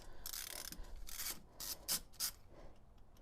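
A 3/16 Allen bit loosens a small Allen bolt on a hydraulic leveling motor, giving a few short scraping, ratchet-like bursts near and fairly quiet, with two sharper clicks toward the end.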